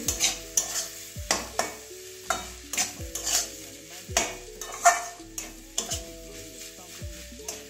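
Egg, cabbage and carrot curry with garam masala and black pepper being stirred in a pan, repeated rhythmic scraping and knocking strokes of a spoon over a soft sizzle, close and clear, with no talk.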